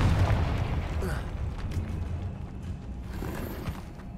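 A Confringo fire spell detonates in the Hogwarts Legacy video game, giving a deep rumbling boom that starts loud and slowly fades over a few seconds.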